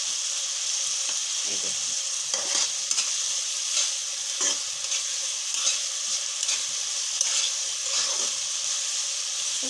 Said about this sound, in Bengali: এখন আবার একটু কষিয়ে নিচ্ছি।